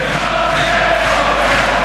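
Large rugby match crowd singing in a stadium, a dense, steady roar of many voices with a continuous sung tone, heard from a distance and fairly loud throughout.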